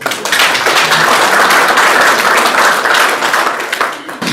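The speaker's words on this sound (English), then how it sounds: "give Eunice a round of applause." A room full of people gives a round of applause at a meeting, a loud, steady roar of clapping that swells and holds for several seconds, then eases off toward the end.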